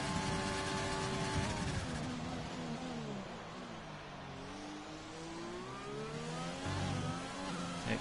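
Racing cars in a video game at the China circuit, racing in the W2WR AL2 series, drone past with layered engine whines that rise and fall as they brake and accelerate, steady and close, with no voices.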